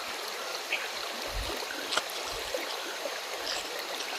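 A big river flowing past a fishing spot, a steady broadband rush of moving water with occasional low thumps and small splashes, continuous and moderately loud.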